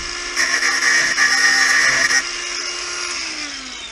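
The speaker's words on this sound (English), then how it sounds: "cut the head off with a grinder" An angle grinder cuts the rusted head off a stuck bolt on a Toyota FJ40/BJ40 roof, a loud steady high whine for about two seconds that eases off and winds down in pitch as the disc spins down.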